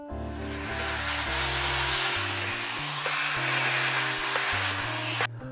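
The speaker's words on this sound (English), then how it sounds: "I actually vacuum my holders." A vacuum cleaner runs steadily on large format 4x5 film holders, a loud continuous whooshing roar with shifting tone as the nozzle moves, cutting off abruptly at the end.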